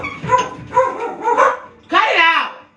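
Dogs bark and yip in several close, loud bursts, with a whining, whimpering tone at the end.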